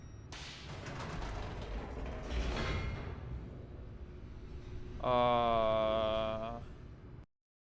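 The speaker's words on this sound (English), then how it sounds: "Ooh, an elevator." An elevator descends in The Stanley Parable, with a steady mechanical rumble and a few heavy creaking thuds, then a bright ringing harmonic tone for about a second and a half before everything cuts to silence.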